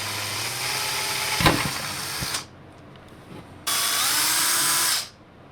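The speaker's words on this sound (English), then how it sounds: "So I'm just cutting some threads with the screw itself. Little self-tapping action." A screw driven by a power driver, self-tapping threads into a metal power supply case, whirring loudly in two separate bursts with a sharp click between them and a quieter pause.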